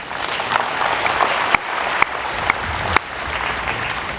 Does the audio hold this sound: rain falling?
no